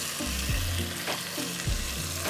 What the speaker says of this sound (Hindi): we are going to go in with the tomatoes.